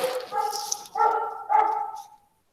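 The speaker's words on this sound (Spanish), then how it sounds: "ahora se le da por ladrar el perro" Three loud, close dog barks in quick succession, each tonal and slightly drawn out, with the last trailing off into silence.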